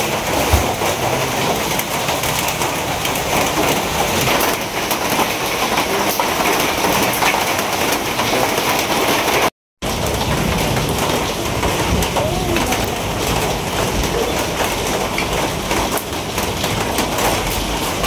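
Heavy rain keeps falling outside where khichuri is being cooked in stormy weather, a loud, unbroken wash of noise that cuts out for a split second midway before resuming just as strongly.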